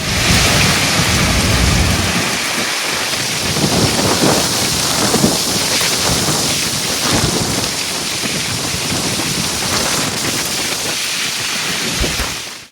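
Heavy rain pours just outside a hillside cave in the Araku tribal hills, a loud, steady dense roar with low rumbles of thunder rolling through, no voices.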